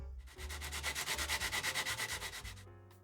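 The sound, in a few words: sanding card model building shell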